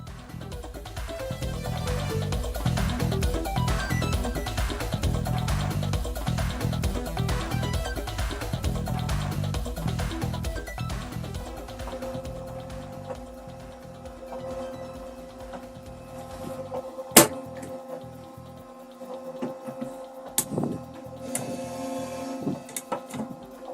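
A 3D printer whirs and buzzes with rhythmic stepper-motor tones, muffled inside a fire-resistant enclosure, thinning out later with a few sharp clicks.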